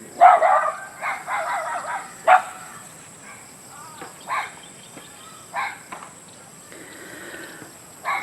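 Several short, sharp barks from a puppy at a distance on a countryside farm in the Philippines, coming in scattered bursts with quiet outdoor pauses between them.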